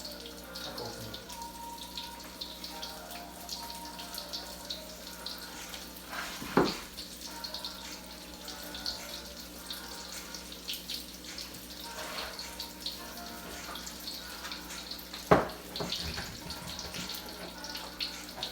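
A kitchen tap runs steadily at low volume during dinner preparation, with a soft continuous splash and a couple of brief louder clatters, and no talking over it.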